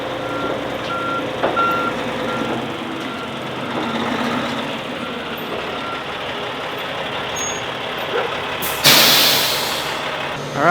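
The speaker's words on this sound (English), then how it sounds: "Crane truck is here." A crane truck arrives at a snowy building site, its steady reversing beeps repeating over a low engine rumble, ending in a loud burst of air brake hiss.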